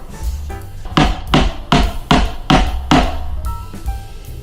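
A hammer drives a screw into a piece of furniture, with about six loud, evenly spaced strikes close up, then a few softer taps trailing off.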